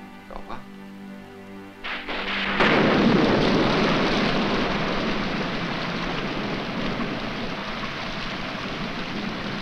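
A thunderstorm with rain, with a sudden loud thunderclap that gives way to a steady, dense roar of heavy rainfall that holds for several seconds, alone without talk.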